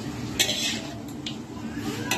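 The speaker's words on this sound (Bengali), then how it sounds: "সব মাংসগুলো আমি এবারে এর মধ্যে দিয়ে দিয়েছি। ভালো করে এটা আমরা এবারে একটু ভেজে নেব" Meat being fried and stirred in a pan while cooking a mutton dish called pathar mangsho, with scattered clinks and scrapes of a utensil against the pan over a low, steady background of cooking noise.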